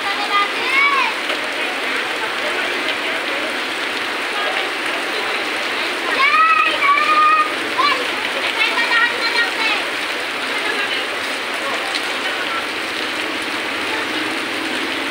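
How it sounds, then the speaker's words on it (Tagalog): Steady heavy rain hissing throughout on a morning in Carmen Planas, Divisoria, with a few squeaky tones and faint voices in the background. "lakas ng ulan."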